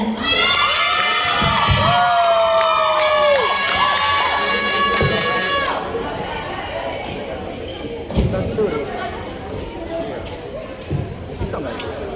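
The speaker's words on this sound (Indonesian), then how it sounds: "berikan tepuk tangan yang meriah untuk tim HW Movement" A school talent-show audience cheers and shouts for a dance team, with loud high-pitched voices rising together at first, then easing into a noisy crowd murmur with scattered thumps.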